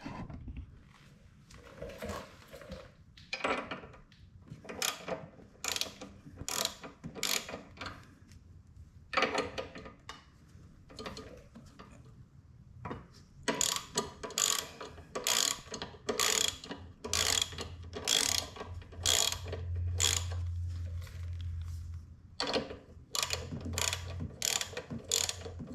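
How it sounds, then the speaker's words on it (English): A ratchet wrench clicks repeatedly while loosening two 10 mm bolts on a Briggs & Stratton 650 series push mower carburetor, with bursts of close, crisp ratcheting separated by pauses. "I've just loosened those 2 bolts right now, so it'll wiggle a little bit"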